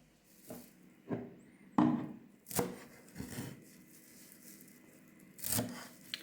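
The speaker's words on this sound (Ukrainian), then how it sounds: "Зараз ще наріжу зелень петрушка." A knife chops parsley on a board in several separate, sharp strokes at an uneven pace, close up, with quiet pauses between cuts.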